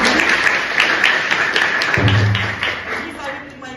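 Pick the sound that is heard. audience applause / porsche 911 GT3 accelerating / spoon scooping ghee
audience applause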